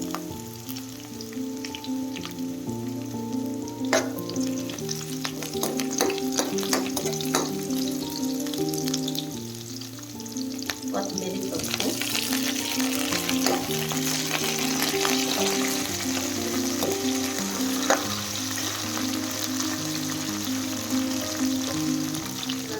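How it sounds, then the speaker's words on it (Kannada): Curry leaves frying in hot oil with onion for a soppu palya, a long continuous crackling sizzle with sharp spits and pops, close and steady, over a background music bed, no speech. "ಸ್ವಲ್ಪ ಫ್ರೈ ಆಗಬೇಕು ಇವಾಗ ಸ್ವಲ್ಪ ಕರಿಬೇವು ಹಾಕೊಂಬರ್ರಿ"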